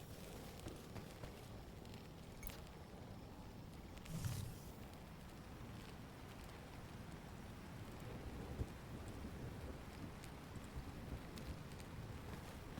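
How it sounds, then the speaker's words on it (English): Steady rain and wind noise wash through a thunderstorm in the farming game Lightyear Frontier, with a brief low thunder rumble near the four-second mark over the constant downpour. "Oh, is this the this is the thunderstorm day. Exciting. Do love me some thunder."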